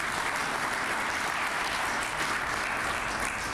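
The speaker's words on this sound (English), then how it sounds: "You guys stand up and have a round of applause for these Fairdale coaches." A crowd at a high school hall of fame press conference gives the Fairdale coaches a sustained, even round of applause, a dense clapping texture in a room with no talk over it.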